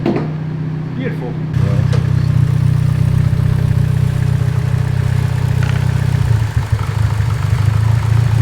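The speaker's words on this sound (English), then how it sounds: "You got a massive air leak." Car engine running with a boost air leak, a loud close steady idle drone with a rougher, hissing edge, starting up partway in and continuing without talk.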